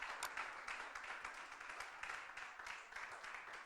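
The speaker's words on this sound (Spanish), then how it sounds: "Dale un aplauso a la palabra" Congregation applauding in a church service, a steady wash of many hands clapping at moderate distance, fairly soft and sustained for a few seconds with no voices standing out.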